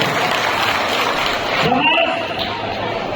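An audience claps at a mass wedding ceremony, a steady, fairly loud wash of applause with a voice briefly heard over it.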